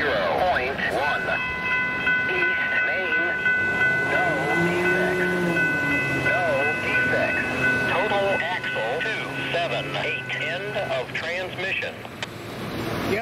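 A short FEC freight train rolls past with steady rumbling wheel noise and a continuous horn-like tone throughout, loud and close, while a voice talks over it.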